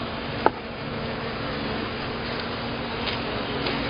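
Honey bees buzz steadily around an open hive during a spring inspection, a continuous close drone with one brief knock near the start.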